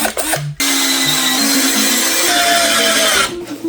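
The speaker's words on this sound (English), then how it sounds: "you just drill in your screws and you're all ready to go." A power drill drives screws into wood while building a treated-lumber tomato planter, one long whirring run of a few seconds with a brief start-stop at the beginning and the motor winding down at the end.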